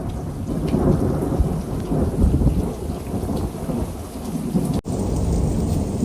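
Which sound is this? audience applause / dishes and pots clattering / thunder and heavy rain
thunder and heavy rain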